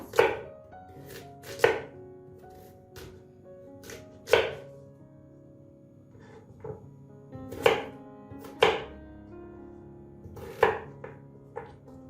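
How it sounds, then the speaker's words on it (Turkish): Steady knife chopping on a board, dicing potatoes into cubes, a dozen or so crisp cuts at an uneven pace, close up with no talking. "Patatesimizi de küp küp doğrayacağız."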